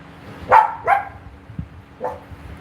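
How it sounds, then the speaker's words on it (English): A dog barks three times nearby, two quick sharp barks then a third after a pause, over a low steady hum. "You know, why are you barking?"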